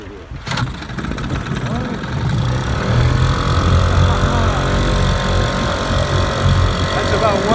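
A Sea King Clinton outboard motor, choked, starts with a sharp pull and then runs with a rising, steady mid-pitched drone that stays loud and close.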